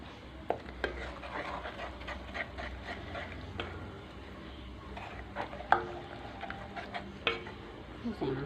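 Food with black pepper, salt, coriander and a stock cube is stirred in a pot, with a low simmering hiss and scattered scrapes and clinks of a spoon against the pot throughout.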